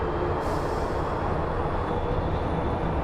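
An American Airlines A321neo airliner at Phoenix Sky Harbor International Airport, a loud, continuous jet engine roar from close by, with a broad steady rush and no talk.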